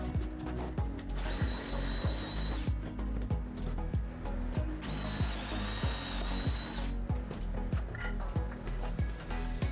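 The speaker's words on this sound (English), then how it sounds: "I use a drill bit that is the same size as the carriage bolts to drill the holes out" A power drill boring holes in wood for carriage bolts while building cornhole boards whirs repeatedly against a steady rhythmic mechanical clatter, with bursts of high-pitched drilling rising and falling.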